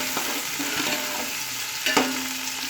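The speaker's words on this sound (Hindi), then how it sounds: "तो प्याज हमने डाल दिया, हमने इनको फ्राई कर लेंगे, गोल्डन ब्राउन हमने इनको करना है।" Onions frying in cooking oil for aloo keema pulao, a steady sizzle with scattered stirring scrapes and one louder clatter near the two-second mark, with no voices.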